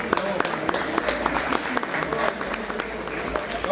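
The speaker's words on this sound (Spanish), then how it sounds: "un fuerte aplauso" An audience at a Hot Wheels collectors' awards event claps in brisk, scattered applause throughout, fairly close.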